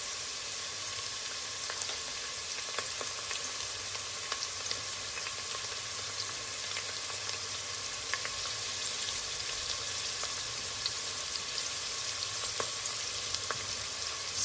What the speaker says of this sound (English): Stir-fried cabbage.